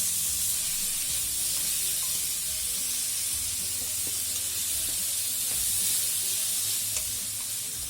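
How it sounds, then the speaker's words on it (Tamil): Brinjal pieces sautéing in a small amount of oil for brinjal rice, a continuous hissing sizzle with occasional soft stirring clicks, steady and close with no talking. "இந்த கத்திரிக்காய் வந்து நல்லா வதங்கி வரணுங்க."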